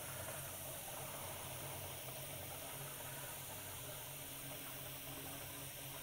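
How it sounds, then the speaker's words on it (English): An air compressor filling an air tank runs as a quiet, even motor hum under a continuous airy hiss, unchanging throughout. "And you'll hear the air go in there."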